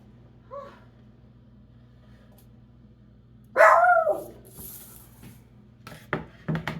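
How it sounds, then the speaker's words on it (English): A dog barks in a home kitchen: one faint distant yelp, then after a pause a louder nearby bark followed by scattered softer sounds and light clatter. "I do not know what he's barking at today"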